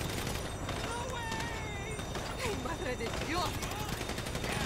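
Bursts of gunfire crackle in the video game GTA V, rapid shots and booms over a dense game soundscape, with people talking over it.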